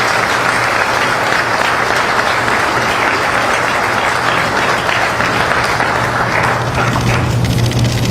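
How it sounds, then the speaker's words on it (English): A large audience at a military ceremony breaks into loud, continuous applause, dense clapping holding steady throughout, with a constant low hum beneath it. "A big round of applause"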